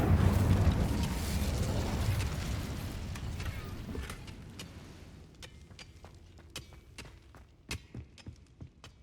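The Incendio fire spell from Hogwarts Legacy goes off in a loud, roaring blast of flame that fades over several seconds. Sharp clicks and taps follow as the fire dies out.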